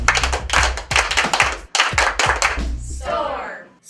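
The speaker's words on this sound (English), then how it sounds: "let's celebrate this great event with our Sageville clap" A group of school students claps out their rhythmic Sageville clap, a patterned series of sharp synchronized hand claps in short bursts, close and loud, ending with a voice shouting.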